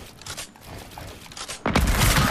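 A sniper rifle shot fires in Fortnite, a sudden loud blast that lands late and rings on under a brief stretch of muffled game noise.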